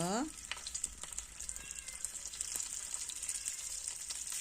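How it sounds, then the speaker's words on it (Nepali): Boiled eggs sizzle steadily in hot oil in a pan for an egg curry, a continuous close frying hiss with faint crackles throughout and no talking. "अन्डालाई चाहिँ एकछिन फ्राई गर्नुपर्छ।"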